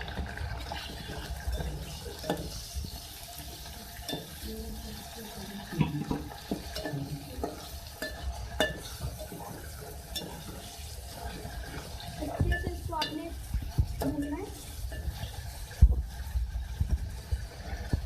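Beef liver (kaleji) frying with browned onion and ginger-garlic paste in a pan, a steady sizzle with scraping and stirring clatter throughout, fairly close, with no talking.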